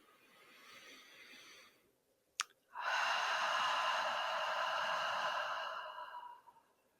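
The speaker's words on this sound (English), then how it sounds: "take a couple of deep breaths in through our nose and exhale through our mouth." A person's slow, deep breathing during a mindfulness exercise: a soft breath, a brief click, then a long, airy exhale that holds steady for several seconds before fading, close and quiet with no talk.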